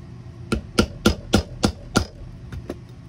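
A hammer strikes a snap setter on an anvil to fix a snap onto a leather belt, six sharp close taps in even rhythm followed by two lighter ones.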